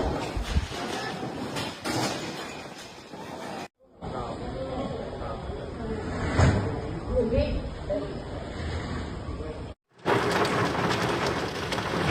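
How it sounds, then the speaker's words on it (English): A violent summer storm front sweeping through the Reggio Emilia and Modena region of Italy: steady heavy rain hisses throughout, a deep thunder rumble rolls in the middle, and cut segments are broken by short pauses. "The storm front then passed through the Reggio Emilia and Modena regions"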